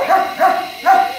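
A small puppy barks three times in quick succession, high, short yaps close to the microphone and evenly spaced.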